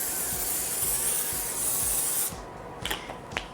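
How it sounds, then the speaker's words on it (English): A continuous spray of olive oil or baking spray hisses steadily onto a baking tray for about two seconds, then stops, followed by a couple of short spritzes and light clatter nearby. "We're going to spray them with olive oil or baking spray so the bottoms don't stick."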